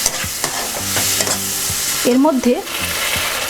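Ginger and cumin paste hits hot oil in a pan for a Bengali masoor dal tarka, giving a loud, steady sizzle with stirring scrapes and a brief word spoken partway through.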